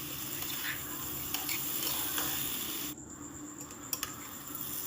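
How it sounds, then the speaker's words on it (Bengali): Diced potatoes stirred and frying in hot spiced oil for a vegetarian cauliflower-potato curry, a steady close sizzle with scraping stirs and a brief clink of the pan, no talking. "এবার আমি দিয়ে দিলাম ডুমো ডুমো করে কাটা আলুগুলো। আলুটাকে দিয়ে নেড়ে চেড়ে সুন্দর করে কষিয়ে নেব।"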